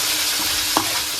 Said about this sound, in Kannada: ಇವಾಗ ನಮ್ಮಣ್ಣ ಎಲ್ಲ ತರಕಾರಿ ಹಾಕ್ತಾ ಇದ್ದಾನೆ